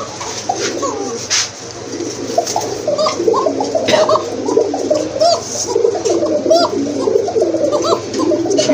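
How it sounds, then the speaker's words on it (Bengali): Pigeons kept for sale cooing repeatedly at close range, a steady series of soft, rolling coos layered over one another against a low background hum. "ডাক দেখেন একবারে চিকন গলা ডাক"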